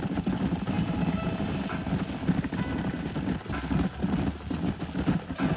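Horse hooves from the Western video game Red Dead Redemption clip-clop in a dense, continuous patter, as if several riders move together at a steady pace, with a low rumble underneath and no clear talking.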